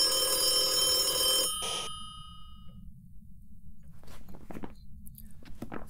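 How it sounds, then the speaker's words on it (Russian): A telephone in Phasmophobia rings with a loud, bright, metallic bell for under two seconds, cuts off abruptly, and is followed by quiet footsteps and faint knocks. "В какой телефон он звонит?"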